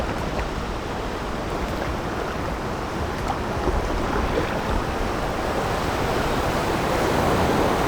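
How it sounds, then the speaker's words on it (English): High river water rushing and bubbling as it bunches up around bridge pillars during a stand-up paddleboard run, a steady, loud broadband roar of churning current with wind buffeting the microphone throughout. "Notice the water just bubbling up, bunching up."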